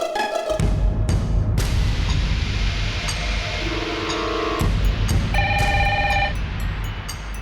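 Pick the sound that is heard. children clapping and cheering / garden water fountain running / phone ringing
phone ringing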